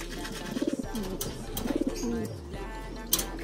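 Pigeons coo close by in two bursts of soft, throaty, pulsing calls, with faint chirps and shuffling around them.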